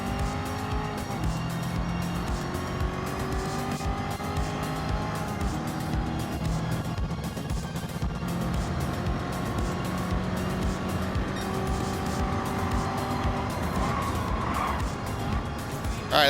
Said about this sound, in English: your engine's revved up, you got high RPM